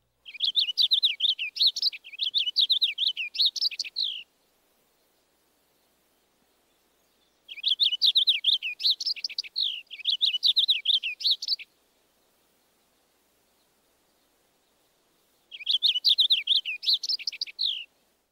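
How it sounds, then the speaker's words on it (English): Lively warbling song of a purple finch, three separate bursts of rapid, tumbling notes with quiet gaps between them, clear and alone. "First, the lively song of the purple finch."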